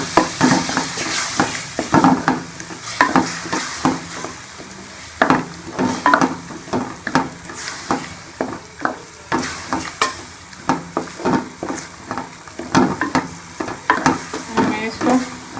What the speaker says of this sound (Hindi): दही डाल के इसको अच्छी तरह से भून लेंगे